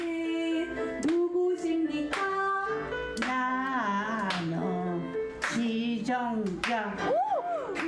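In a music therapy class for dementia patients, people clap in rhythm to upbeat sung music. Light, evenly spaced claps sit under a prominent singing voice.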